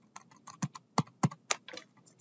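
Keyboard shortcuts tapped on a computer keyboard, a quick run of crisp, close key clicks in uneven bursts with a few heavier strikes, alone without talk.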